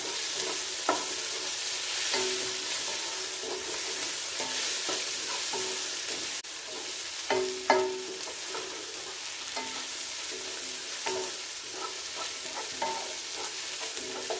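Onions fry and sizzle steadily in a pan, stirred every few seconds with scraping, clattering strokes of a spoon, cooking as part of a chicken biryani; close and alone with no talk.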